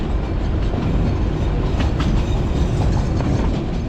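Train pulling into New Jalpaiguri railway station, a continuous close rumble of wagons rolling over the rails with faint clicking from the wheels.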